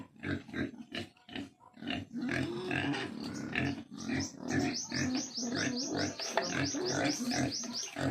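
Repeated pig grunts and oinks in a pen, close by and fairly loud, coming in an irregular rhythm with a few higher squeals toward the end.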